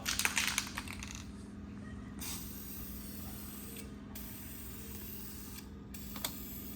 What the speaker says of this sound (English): Now we're gonna start spraying the black.